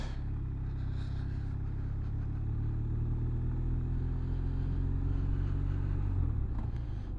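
A 2016 BMW R1200R motorcycle rolls over gravel, its engine droning steadily and close before easing off as it pulls up. No one speaks.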